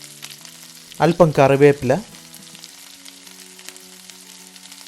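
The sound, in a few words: sliced shallots and green chillies frying in oil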